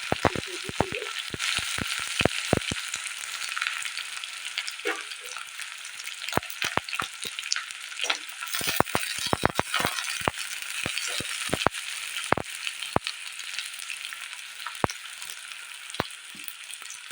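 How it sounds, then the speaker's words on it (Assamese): Sliced onion fries in hot mustard oil, crackling and sizzling steadily with sharp pops and spatters scattered throughout, close and fairly loud with no voices. "এয়া তেলখিনি গৰম হৈছে। ইয়াতে দি মই এয়া পিঁয়াজ"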